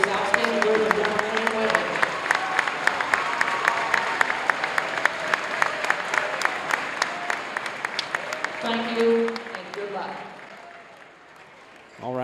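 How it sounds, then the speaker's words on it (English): Crowd applause fills a gym at a Baldwin Bulldogs girls basketball senior night, a steady roar of clapping with scattered cheers that tapers off near the end. "Ladies and gentlemen, let's give a fine round of applause"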